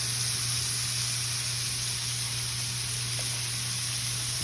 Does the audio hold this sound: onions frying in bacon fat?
yes